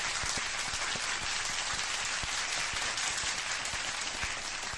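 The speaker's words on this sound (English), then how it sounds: "Come on, round of applause. Keep it going." A live audience gives a sustained round of applause at a UFC fight-week event, dense steady clapping throughout with occasional sharper individual claps standing out.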